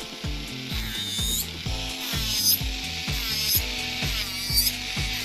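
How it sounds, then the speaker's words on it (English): A nail drill files down a layer of acrylic or gel on a fingernail, giving a steady close-up whirring grind with repeated rhythmic ratcheting passes and no talking. "Take your drill and just file down the product that you have laid over the top, whether it be acrylic or gel,"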